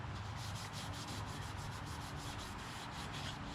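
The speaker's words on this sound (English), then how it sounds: "Got an old sock here. Wipe down the excess oil." An old sock wipes excess oil off the parts of a Smith & Wesson M&P 15-22 rifle, giving a close, steady rubbing with quick repeated back-and-forth strokes and no talk.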